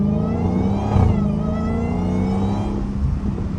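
A Dodge Hellcat's engine revs loud and close from inside the car, a steady deep rumble swelling into a brief higher surge before settling back to a heavy idle-like drone.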